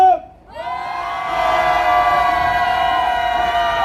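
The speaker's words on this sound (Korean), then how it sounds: "그렇다면 크게 함성 한번 질러주세요" A large outdoor rally crowd lets out a long sustained shout together, rising after a brief lull and holding as a loud, dense roar of many voices.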